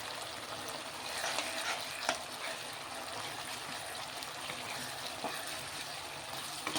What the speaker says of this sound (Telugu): ఇది కూడా పచ్చివాసన పోయేంత వరకు ఫ్రై చేసుకుందాం.